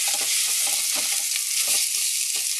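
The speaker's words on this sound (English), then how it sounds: "And here comes the rice, and that is a hot pot." Rice hitting a very hot pot with butter and cumin gives a loud, continuous close sizzle, with crackling pulses as it is stirred quickly; no one speaks.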